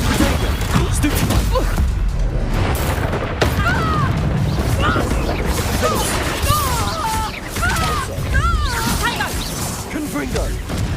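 Confringo blasting spells exploding in the video game Hogwarts Legacy, repeated booms and whooshing blasts amid combat clatter, with voices shouting over the action.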